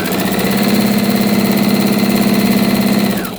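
A sewing machine stitching quilt pieces together for a beginner patchwork quilt, a loud, steady, close mechanical hum with rapid even stitching pulses throughout.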